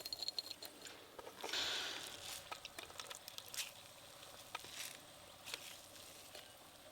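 Wet squelching and patter from grated cauliflower being squeezed by hand over a bowl, with a few soft drips and squishes spread across the moment, quiet and close.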